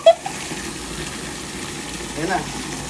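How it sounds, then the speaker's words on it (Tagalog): Water runs and gushes steadily into a tub being filled to bathe Shih Tzu dogs, a continuous close wash of sound with a swell near the end, while people talk over it. "Lagyan nyo na yung tubig para makababot ba yan."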